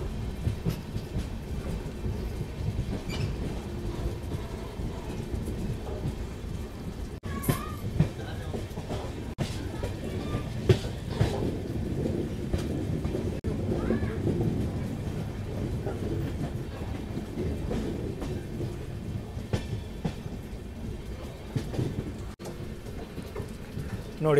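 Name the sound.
diesel locomotive train running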